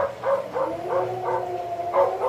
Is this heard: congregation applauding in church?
no